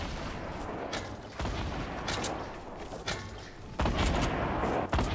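Grenade blasts and gunfire in a PS4 squad shooter match, several sharp booming explosions and bursts spaced across the stretch, loud and close, with no talking.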